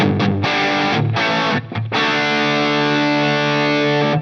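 Electric guitar through a Line 6 Helix Cali Texas amp model with the master cranked, loud and heavily distorted, sustained chords with two brief gaps before ringing out continuously, no talking.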